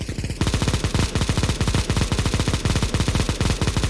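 Rapid sustained automatic gunfire in the video game CS:GO, a loud, close, evenly spaced stream of shots rattling without pause for several seconds, with no talk.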